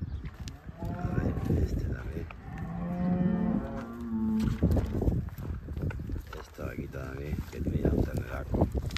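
Cattle, cows with calves being separated at weaning, low loud mooing close by, several calls overlapping with footsteps and farm shuffling behind them.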